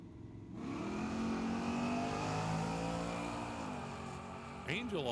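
A Camaro drag car launches down the strip at Tucson Dragway, its engine roaring into a long rising wail heard from trackside, loud and sustained before fading as it pulls away.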